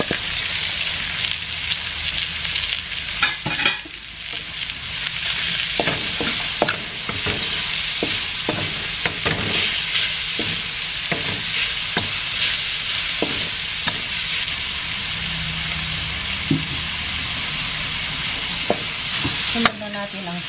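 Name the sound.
stirring corn soup with wood ear mushrooms in pot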